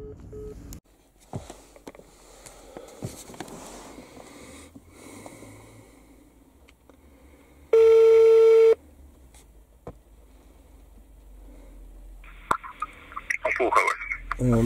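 During a phone call, a single loud telephone tone sounds for about a second midway, set against quiet room noise, breathing and faint voices, with a brief burst of noise near the end.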